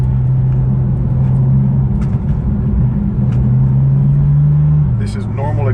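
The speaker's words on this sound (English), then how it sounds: "This is normal exhaust." A Porsche GT2RS with its exhaust in normal mode, a steady low droning engine note that rises slightly before dropping away near the end, heard from inside the cabin with mechanical vibration and a voice talking over it.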